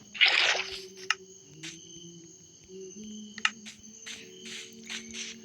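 A water pickup in the Minecraft video game: a soft squishy splash burst at the start, then faint drips and sloshes with game ambience and a low steady hum underneath, no talking.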